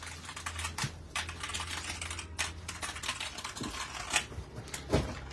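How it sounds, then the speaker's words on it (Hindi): Steady rapid clacking of a rechargeable RGB mechanical keyboard with Type-C connectivity, keys struck continuously and close by, with a few louder presses standing out. "ये आ गया हमारे पास जो है वो मैकेनिकल कीबोर्ड।"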